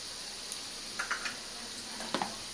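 Turmeric is stirred into oil in a frying pan while making street-style egg fried rice: soft continuous sizzling with a few light scraping strokes of a spoon, close and fairly quiet.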